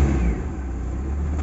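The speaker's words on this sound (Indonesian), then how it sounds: "ini kita masih injak sedikit lalu kita nyalakan mesinnya" A Daihatsu Zebra Espass car engine has just started and runs with the accelerator pedal held down, giving a close, steady, moderately loud engine hum with a brief initial surge.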